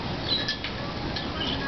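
High, thin chirping calls from a baby tapir at a zoo, a few brief bird-like peeps over steady background noise.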